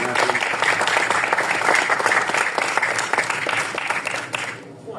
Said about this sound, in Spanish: un aplauso para nuestro querido Ignacio